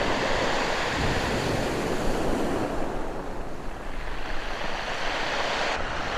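Ocean waves break steadily at a beach by a river mouth, a continuous loud wash of surf with some wind rumble and no speech.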